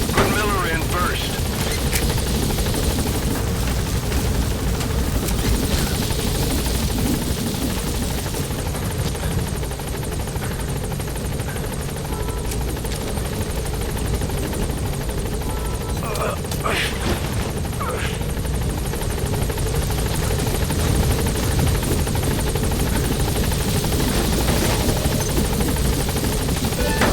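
A military helicopter in the Metal Gear Solid video game gains altitude, its rotor thrumming loud and constant throughout, with bursts of gunfire and crashes scattered in and a voice speaking over it.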